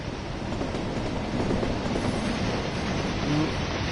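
A cement freight train on the Tees Valley Line in Train Sim World 4 rumbles past with a steady, dense roar of wheels on rails and faint brief squeals, loud and continuous throughout.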